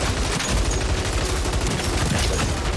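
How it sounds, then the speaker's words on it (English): Dense, continuous gunfire from a Call of Duty Modern Warfare 3 Zombies match, rapid overlapping shots and bursts forming a steady loud barrage with low booms underneath and no talk. "shooting is a lot more fun"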